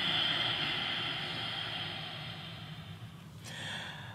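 Ujjayi yoga breath exhaled slowly through a constricted throat, a steady close hiss that fades gradually and then swells again near the end, with no talking.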